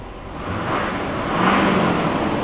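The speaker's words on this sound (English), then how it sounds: "The truck is running pretty good again." A 2007 Duramax diesel pickup fitted with an Edge performance device runs close by, a steady engine drone with a slight rise in revs partway through.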